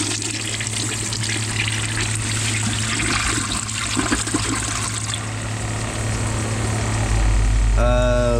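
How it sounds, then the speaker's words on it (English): A Kohler Wellworth Ingenium toilet flushes with a loud rushing swirl of water that trails into trickling and gurgling from the pipes, followed by a short rising refill tone at the end, with no talking over it. "Don't mind that gurgle because As you can see right here, it's trying to come out of the pipes."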